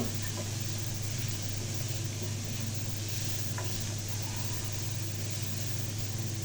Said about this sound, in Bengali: একটু ভালো করে ভেজে নেড়ে নেব সুন্দর মতো